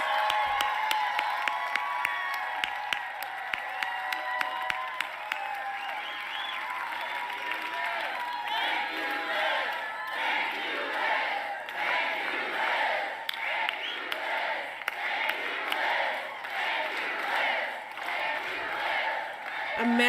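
A large rally crowd cheers and claps steadily for about twenty seconds, with a dense wash of shouting voices and sharp clap bursts near the start, staying loud throughout.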